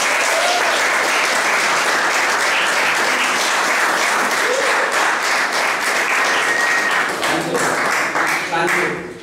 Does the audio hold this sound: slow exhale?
no